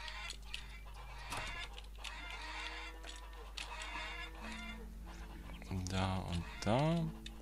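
Chickens clucking in the farming video game Farmer's Dynasty, a burst of clucks near the end over ongoing game ambience, with someone talking earlier.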